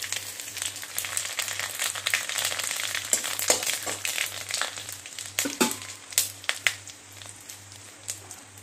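Spices go into hot oil for a jackfruit-seed dal, crackling and sizzling steadily with sharp pops and spatters that grow more sporadic, alongside a low constant hum.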